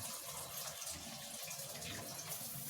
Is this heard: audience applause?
no